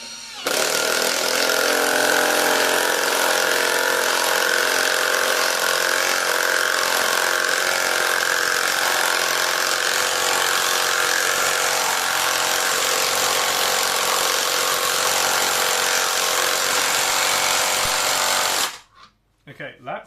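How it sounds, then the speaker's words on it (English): A KAUSU impact driver from AliExpress hammers a fastener in with a loud, continuous rattling buzz close by for nearly twenty seconds, then stops abruptly, with brief talk or handling noise afterward. "we're just going to drive it in"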